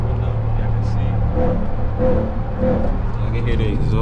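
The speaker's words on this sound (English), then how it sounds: "I can hear the exhaust a little more." Low, steady exhaust rumble from a Ram TRX pickup truck driving off-road in snow, heard from inside the cab, loud and continuous, with a person speaking over it.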